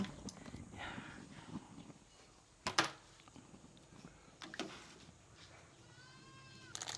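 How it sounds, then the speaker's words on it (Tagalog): Goats bleat intermittently over a noisy outdoor background, with a couple of sharp knocks and rustling close by. "Ingay yung mga kambing ah."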